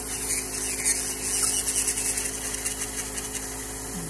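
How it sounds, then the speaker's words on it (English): A strong nail drill grinds steadily on extremely thick, long toenails, a constant close whine with a low motor hum and no speech. "This is a really strong drill."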